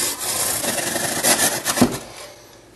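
A hand saw cuts through a soft fire brick for a metal foundry furnace in a gritty, rasping stream of strokes that ends in a brief, louder scrape.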